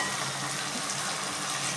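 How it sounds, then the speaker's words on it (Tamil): Onion and tomato for spring onion chutney sizzle in a pan, a dense, even frying hiss across a brief moment with no voices. "வதங்கிட்டே வருதுங்க"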